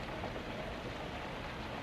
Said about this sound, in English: Well, I think it's only a shower.